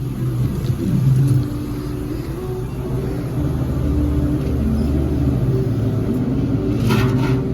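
A car pulls away from a gas station and drives onto the road, a steady engine rumble with a slight rev near the start, holding fairly loud throughout with no talk.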